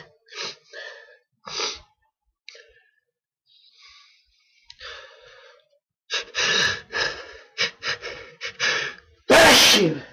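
A person sneezes close by amid gasps, sharp breaths and snorts; several short bursts, ending in one loud, forceful sneeze.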